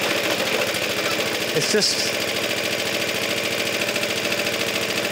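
A Suffolk Super Punch lawnmower engine runs steadily close by as it warms up, a constant rapid chugging drone with a slipping clutch; a person speaks briefly over it.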